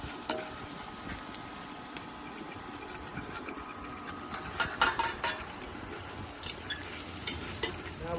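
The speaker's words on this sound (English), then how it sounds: "I'm going to give that a stir." Japanese chicken curry, seasoned with cayenne and brown mustard, is stirred in a single pot over heat. A spoon scrapes and clinks against the pot above a steady sizzle, with a few louder knocks near the middle.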